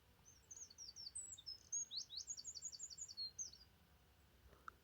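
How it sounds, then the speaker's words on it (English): A whitethroat warbler sings in the open on Ventnor Downs, a quick scratchy run of high chirps and trills that rises into a rapid rattling burst, fairly close against a quiet background. "Okay, it's a whitethroat"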